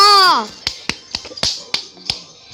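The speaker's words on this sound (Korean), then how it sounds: "박수!" A brief vocal call opens, followed by a string of about six sharp, close hand claps in an uneven rhythm, suggesting a child at home.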